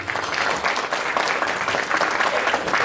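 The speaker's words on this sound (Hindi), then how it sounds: "एक बार जोरदार तालियां।" Loud, sustained applause from a large audience at the Atal Samman Samaroh 2024 ceremony, dense clapping filling the hall steadily throughout.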